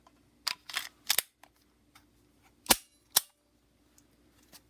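A third-generation S&W pistol dry-fired in single-action mode with no shot: several sharp mechanical clicks and snaps of the trigger, hammer and slide, close and crisp, separated by short pauses of near silence.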